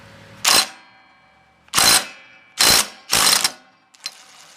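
Clutch removal tool turned on the flywheel clutch of a Briggs and Stratton rototiller engine, giving four loud close bursts of ratcheting clicks with short pauses between, then a faint final click.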